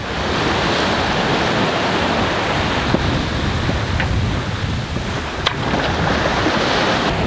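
Choppy ocean waves wash and slap around a sailboat on an ocean passage toward Panama while strong wind roars across the microphone, a loud, constant rush with occasional sharper splashes.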